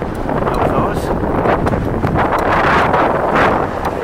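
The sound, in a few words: wind blowing into the microphone outdoors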